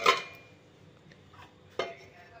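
The lid comes off a pressure cooker holding boiled kabuli chickpeas: a sharp metallic clank at the start, a quiet stretch, then a second clatter of lid against pot, close up.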